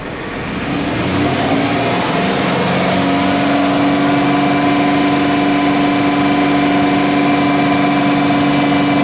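A Lincoln LS engine rises from idle into a steady, loud hum as throttle is applied, holding a sustained higher pitch with no talk over it.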